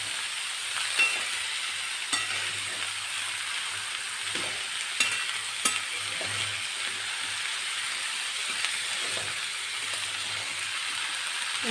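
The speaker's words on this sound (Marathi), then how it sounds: "आपण आता असं छान पद्धतीने परतून घेतलेलं आहे" Mixed vegetables sauté with masala in a pan, giving a steady close sizzle and occasional stirring clicks and scrapes throughout.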